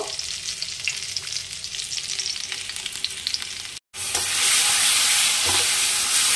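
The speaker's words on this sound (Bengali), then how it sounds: "এদিকে আলুর দমের জন্য আলুটা ভেজে নিচ্ছি" Potatoes frying in mustard oil for aloo dum: a steady, close sizzle with soft stirring scrapes, swelling into a louder, denser crackle in the second half.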